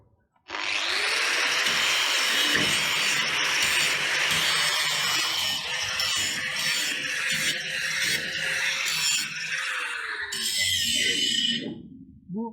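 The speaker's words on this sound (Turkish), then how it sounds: "şöyle biraz taşlayalım. Kaynak ağzı açalım. Pah kıralım." An angle grinder with a grinding disc bevels the edge of a metal piece to prepare it for welding, a loud, steady, close high whine and rasp that runs for about eleven seconds before spinning down.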